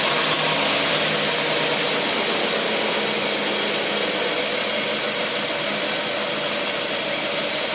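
A Carter marine engine runs on gas squirted into it, giving a steady, loud mechanical idle with a dense rattling clatter that continues evenly throughout.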